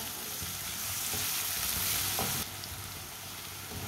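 Garlic and ginger frying in a pan for a chicken liver dish, a loud continuous sizzle with stirring scrapes, steady throughout and dropping slightly in intensity near the end, no talk.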